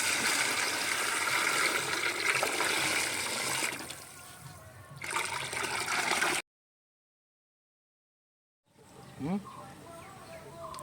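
A pot of water comes to a rolling boil for masala biryani, giving a steady bubbling wash that fades partway, drops out to silence, then returns more faintly with speech over it.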